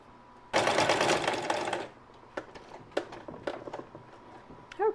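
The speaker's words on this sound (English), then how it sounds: "I'm going to fold the edges under and go ahead and stitch that" Folded fabric edges are stitched on a sewing machine in one close burst of fast, even whirring that lasts just over a second, followed by a few scattered clicks and small handling knocks.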